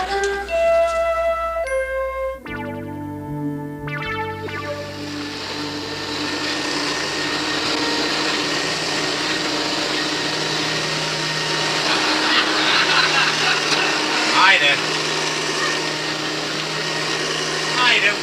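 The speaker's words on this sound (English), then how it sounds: "I'm vacuuming the rug." A vacuum cleaner running over a rug in a sitcom scene starts after a brief stretch of music, then drones on loudly and steadily with a high whine for the rest of the clip.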